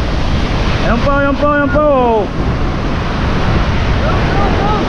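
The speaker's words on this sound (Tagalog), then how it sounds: "Ayan, malalaki ang alon" Big storm-driven ocean waves roar with heavy wind buffeting the microphone, a constant loud wash at sea near a boat, while a voice speaks briefly over it.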